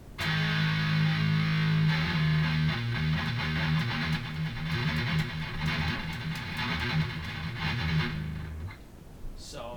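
Loud distorted electric guitar with a boost pedal chugging a riff with punchy, sustained notes, then cutting off near the end into quiet handling noise.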